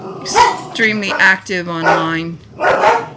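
Pet dogs bark in short bursts close by, overlapping with someone talking indoors.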